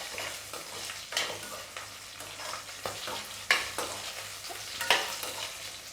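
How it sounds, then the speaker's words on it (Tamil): Chilies and ginger sizzle steadily in a hot pan while a utensil stirs and scrapes intermittently, close and fairly quiet. "எல்லாத்தையும் நல்லா வதக்கிக்கலாம்."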